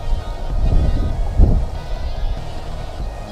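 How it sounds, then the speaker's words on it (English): Outdoor wind buffeting the microphone at an airsoft shooting range, a steady low rumble swelling and easing with a stronger gust midway, fairly loud with no voices. "I got a little bit of wind."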